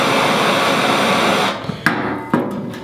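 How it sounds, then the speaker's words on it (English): A melted, fused Technora rope end is struck with a few sharp, separate taps, the first about midway and another near the end, after a steady loud hiss that cuts off partway through. "what you want to do is you just want to hit the top of the rope"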